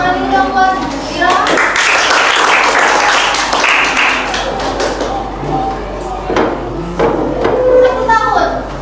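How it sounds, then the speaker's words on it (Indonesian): Junior high school students in a classroom at SMP Negeri 3 Singaraja clap for a classmate, a loud burst of clapping mixed with children's voices before and after. "Tepuk tangan ini dong buat Ira."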